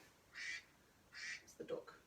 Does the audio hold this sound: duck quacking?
yes